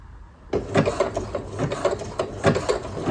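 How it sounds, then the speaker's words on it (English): A domestic sewing machine runs a zigzag stitch, its needle chattering in a fast, steady mechanical rhythm that starts abruptly after a brief quiet moment and stays close and fairly loud with no talking. "I'm going to use my turn dial just to get like the first stitch in, and I'm going to stitch"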